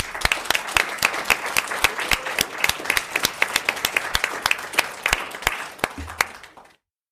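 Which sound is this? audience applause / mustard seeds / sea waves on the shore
audience applause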